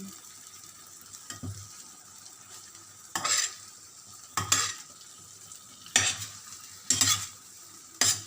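Scrambled eggs with garlic, onions and tomatoes stirred in a pan, several distinct scraping strokes at close range over a soft steady sizzle, no talking.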